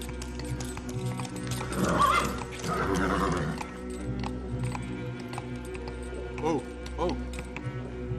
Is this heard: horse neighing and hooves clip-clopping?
yes